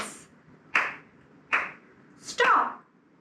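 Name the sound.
children clapping hands in a Simon Says game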